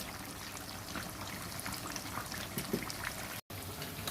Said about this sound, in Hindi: देखिए पानी उबल गया है चावल वाला।